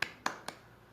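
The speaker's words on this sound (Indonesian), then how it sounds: "Tepuk tangan untuk kelompok 1." Three sharp claps in a classroom as applause for a student group, spaced evenly and fading quickly, close and fairly quiet with no talk.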